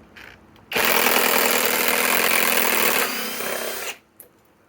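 A Kobalt right-angle impact wrench on a 4 Ah battery drives a timber lock screw in one sustained, loud, close burst of rapid hammering lasting about three seconds, with a slight drop near the end before it stops.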